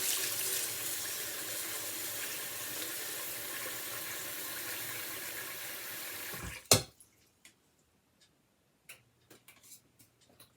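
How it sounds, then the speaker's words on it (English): Tap water runs steadily into a pot of rice for about six seconds, a loud continuous rushing pour that stops abruptly, followed by a few faint clicks and knocks in a quiet room. "And now we're just going to put some water in here."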